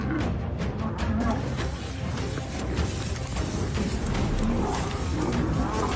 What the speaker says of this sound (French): Un rugissement.